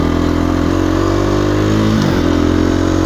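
A KTM 350 EXC-f dual sport motorcycle rides along a forest trail, its engine droning loudly and continuously up close, with a brief dip and recovery in pitch as it shifts or changes throttle.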